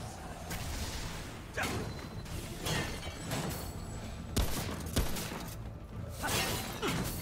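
Sniper rifle shots sound in the video game Remnant: From the Ashes. A couple of sharp cracks stand out amid busy, whooshing game noise.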